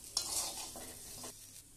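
Spices sizzle softly in hot oil in a pan while a spoon stirs them for a vegetable curry of potato, eggplant, beans, radish and lentil dumplings, with a brief faint scrape or two, close and quiet.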